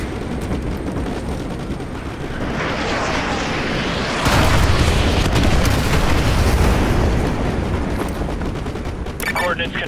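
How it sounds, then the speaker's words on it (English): Artillery strike in Call of Duty: Modern Warfare 2 on enemy vehicles, a continuous loud roar of explosions and gunfire that grows heavier partway through. A radio voice speaks faintly underneath. "use your laser designator to call in artillery on those vehicles"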